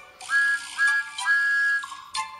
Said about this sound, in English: He is the #1 engine on Sir Topham Hatt's railway and has a whistle that sounds like